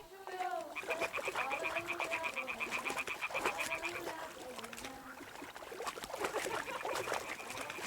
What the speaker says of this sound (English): You can actually hear frogs and stuff now.